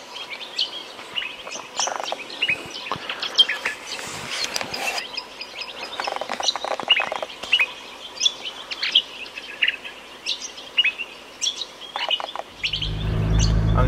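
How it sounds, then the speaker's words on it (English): A busy dawn chorus at the southern Lost City rings out with many birds chirping and calling in quick, overlapping bursts, some near and some farther off, before a low engine-like rumble comes in at the end. "We just woke up at the southern Lost City and the birds are crazy."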